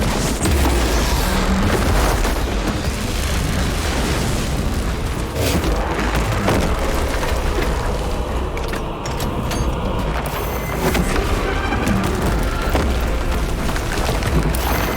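Heavy rolling booms and blasts from an incoming strike in the video game Space Marine 2, a dense, loud continuous barrage of explosions with deep rumble throughout, no voices.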